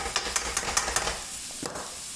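Garlic and chili aromatics sizzle in a pan for Thai drunken noodles, a bright frying hiss with quick rhythmic stirring scrapes early on, then a steadier sizzle and one more clack, close and clear without speech.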